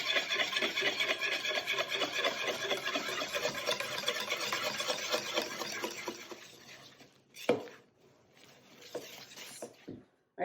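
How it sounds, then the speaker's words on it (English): A whisk scrapes and rubs rhythmically as dry ingredients are mixed into wet batter, a brisk continuous rasp for several seconds before it thins into a few scattered knocks and taps. "Whisk the dry ingredients right in with your wet ingredients."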